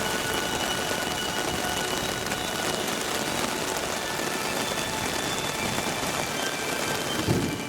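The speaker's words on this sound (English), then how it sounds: "it's raining like hell" Torrential rain pours down near the Kalutara waterfalls in Sri Lanka, a dense, steady hiss of drops drumming on surfaces, loud and close, with a faint low rumble near the end and no talking.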